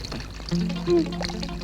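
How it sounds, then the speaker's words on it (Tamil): Water pours from an open tap in a home, a short splashing trickle mixed with background voices. "பைப்பு மூடு தண்ணி வேஸ்ட் ஆகுது"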